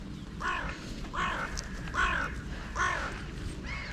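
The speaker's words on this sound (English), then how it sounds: "We got a silver gull there." Silver gull calling outdoors, about five harsh, repeated cries spaced roughly half a second apart, fairly close against a steady background.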